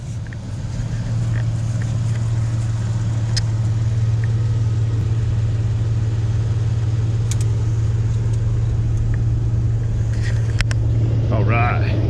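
A vehicle drives steadily on a road, its engine a constant low rumble throughout, with a faint squeak or rattle near the end.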